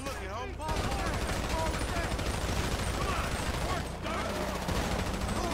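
Rapid bursts of video game gunfire crackle almost continuously in a shootout with a stoned gang, dense and loud throughout, with a brief lull near the start and another dip around four seconds.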